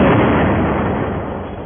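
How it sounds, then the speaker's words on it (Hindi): A powerful explosion from an attack that tore up a road and sent fire and black smoke rising: a dense, loud roaring blast that rumbles on and slowly fades across the clip. "जिससे जोरदार धमाका हुआ"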